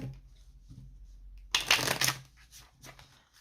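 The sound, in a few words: shuffling tarot cards until a card jumps out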